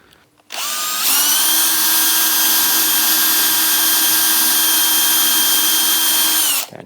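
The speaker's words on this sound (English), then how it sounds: "So I'm using small drill." A small electric drill bores into wood for a folding camping table, its motor whining up sharply, then holding a loud, steady pitch for about six seconds before cutting off.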